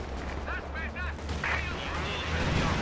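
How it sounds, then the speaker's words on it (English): Land Mattress rocket artillery barrage in a World War II strategy game, a dense rumbling wash of impacts with a low steady roar underneath, moderately loud throughout, mixed with faint game sounds. "We have a land mattress going down on that bulk blob"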